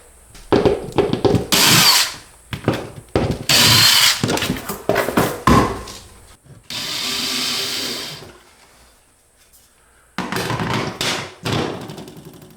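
A power drill drives a screw into a mobile home wall to mount a mini-split indoor unit bracket, sounding as several loud, close bursts of whirring and grinding with short pauses between them.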